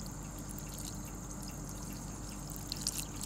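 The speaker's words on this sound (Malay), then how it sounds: "di bawah air mengalir" A tap runs steadily while squid is washed under it, a continuous hiss of flowing water with a few faint splashes and clinks near the end.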